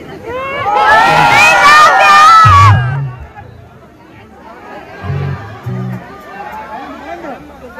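Concert crowd at Sunday Soul Santhe shouting and cheering loudly for a few seconds, then settling into a lower murmur of chatter with scattered shouts; voices talk in the mix.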